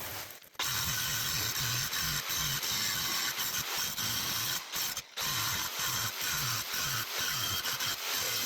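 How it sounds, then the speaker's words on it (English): Grinder working a metal piece clamped in a shop-made V block, a loud steady broadband roar with rhythmic pulsing and a couple of brief breaks. "So get this one ground or cleaned up here"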